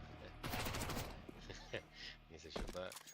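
Gunfire bursts in the video game Counter-Strike, rapid shots crackling loudly at the start and then in shorter bursts, mixed with someone talking over the game.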